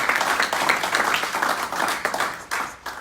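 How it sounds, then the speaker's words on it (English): A crowd applauds steadily, dense clapping from many hands filling the space, fairly loud throughout with a few sharper claps near the end. "Let's give a round of applause to them."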